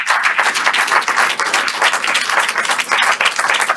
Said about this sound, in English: Let's all give them a great Chicago round of applause.